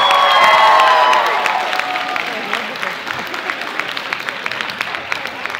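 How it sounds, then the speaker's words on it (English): A crowd at a cosplay blind-date event applauds, loud clapping and a few cheers up front that thin out into scattered claps and fade over a few seconds. "Let's give all our contestants and bachelors another round of applause."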